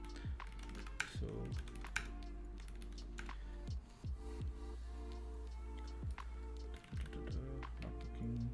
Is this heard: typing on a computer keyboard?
yes